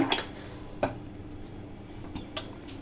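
A spoon stirs paneer biryani in a pot, making a few sharp scraping knocks against the pot over a soft background sizzle, with no voices.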